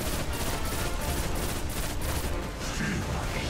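Sustained automatic weapon fire from the player's gun in Destiny: The Taken King, a loud continuous rattle of repeated shots that keeps going throughout.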